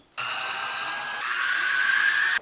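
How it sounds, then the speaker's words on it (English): A power drill with a 7/64 drill bit bores holes for mounting a Focus RS rear wing on a Ford Focus ST, giving one steady, close whine that runs alone without a break. "Now I'm using a 7/64 drill bit to drill the holes."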